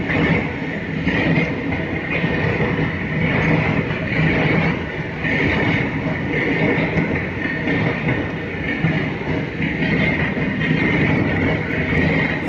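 A long freight train of tanker wagons rolls steadily past close by, a continuous loud rumble with rhythmic wheel clatter and no break in the wagons.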